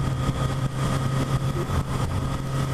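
Steady Kawasaki Z900RS motorcycle engine drone at 4,000 revs, cruising at 70 mph on a dual carriageway, a continuous low hum with wind noise, close and fairly loud, no talking.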